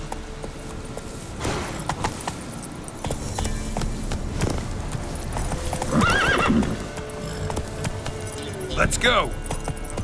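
Horse hooves clip-clop steadily while riding in The Witcher 3: Wild Hunt, with whinnies rising around six and nine seconds and a voice talking over the ride.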